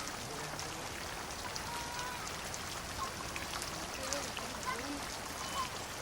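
Steady monsoon rain on the Coromandel Coast hisses down on palm leaf thatch in a dense, even wash of drops, fairly soft and constant throughout.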